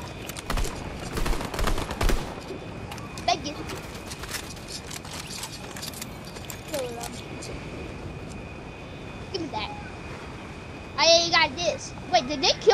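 Uzi gunfire in Fortnite Battle Royale crackles in rapid bursts, fairly quiet and scattered, with players chatting over the game sounds.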